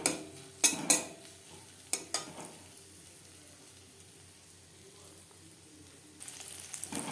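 Garlic and green chili fry with a soft, steady sizzle, broken by a few sharp clinks and scrapes of a utensil stirring the pan.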